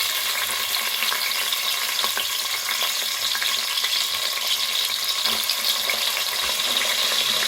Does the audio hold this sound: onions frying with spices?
yes